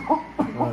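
Three short, close coughs in quick succession, each a brief burst of breath.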